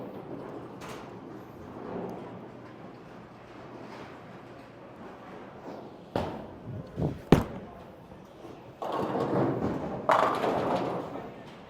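A bowling ball, a Radical Torpedo, rolls down a lane and strikes the pins, a sharp thump and clatter near the middle followed by a louder rattling crash, amid alley background noise.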